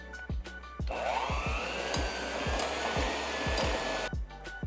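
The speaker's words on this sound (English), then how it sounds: "I'm gonna use a hand mixer for this, and I'm gonna put it on medium speed. We're gonna mix this and blend it all together." A hand mixer runs steadily on medium speed, blending keto chocolate chip cookie dough in a bowl, with a continuous motor whir and repeated knocks of the beaters against the bowl, loud and close.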